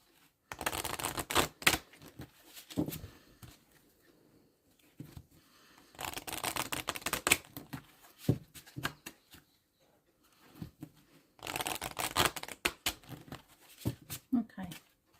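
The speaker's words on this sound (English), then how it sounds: "I just keep going with the cards until I get a clean cut and a straight shuffle." Cards riffle and snap in repeated shuffling bursts, close and crisp, with quiet gaps between rounds.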